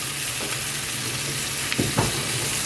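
Chicken wings fry in a pan and give a close, steady crackling sizzle. A couple of brief stirring or scraping touches come near the end, and no one talks.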